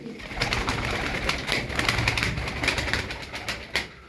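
Tumbler pigeons coo steadily and close by, a soft throaty burble continuing throughout, with occasional brief wing rustles.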